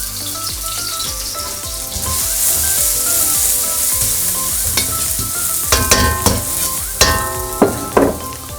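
Onion frying in a little oil as the base for a Nepali fish gravy, a steady loud sizzle with spoon stirring and a few sharp scraping clinks toward the end, no talking.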